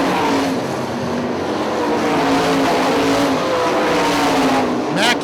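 Sprint cars race at Hartford Speedway Park, engines roaring continuously, with pitch sweeping up and down as cars pass and a commentator talking over the din.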